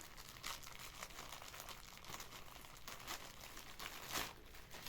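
A plastic-wrapped cargo package being opened, with continuous close crinkling and rustling of plastic and a few louder tearing bursts, with no talking.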